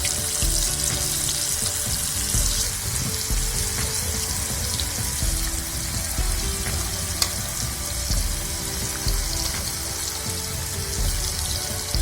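Steady, dense sizzling of chicken pieces frying in hot oil, loud and close, with a few faint clinks and no voices throughout.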